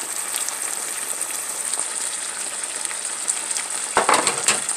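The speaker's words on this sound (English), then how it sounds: "And keep frying it." Chilli beef sizzles and crackles in a pan with Worcestershire and soy sauce, a steady close frying hiss with a brief louder burst of spitting near the end and no speech.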